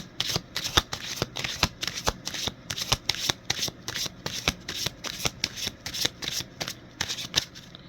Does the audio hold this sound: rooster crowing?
no